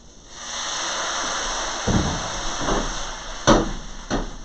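Pieces of frozen tofu, lightly salted, hiss and steam in a hot pan after a little water goes in: a steady loud sizzle with a few clattering knocks of a utensil, close up and without talk.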